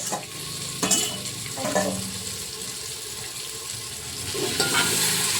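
Cauliflower tumbles into a hot pan with capsicum for a simple veg pulao and sizzles steadily as it is stirred, with scraping spoon strokes over a constant frying hiss.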